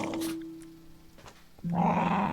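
A dog pet in a Minecraft-style video game growls, a short low synthetic rumble followed by another tonal growl, fairly quiet and close.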